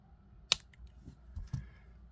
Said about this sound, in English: I don't like the end there. We're going to snip that off.